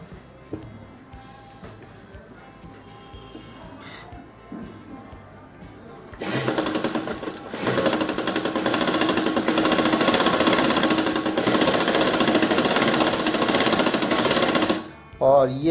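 A sewing machine fitted with a plastic presser foot stitches piping for petal sleeves, starting after some quiet handling and running loud and continuous for about eight seconds before stopping, with someone speaking faintly beforehand.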